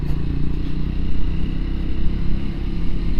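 A Triumph Scrambler 400x motorcycle rides out of town on a Shropshire road, its engine a steady, loud, close rumble with road and wind noise throughout and no voices.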